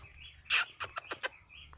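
Caged songbird gives a few short, sharp chirps in quick succession, close and fairly soft, with a quiet background.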